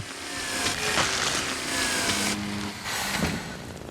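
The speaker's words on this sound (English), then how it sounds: "our own makeshift chainsaw" A makeshift chainsaw running in Luigi's Mansion 3, a buzzing, whirring motor drone with a few louder surges and grinding bursts, fairly close over a short stretch.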